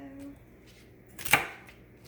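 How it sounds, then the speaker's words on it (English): A knife slices once through the browned, discolored ends of celery, a single sharp cutting thud near the middle, close and fairly quiet over light kitchen room noise. "I'm just going to cut the ends off the celery."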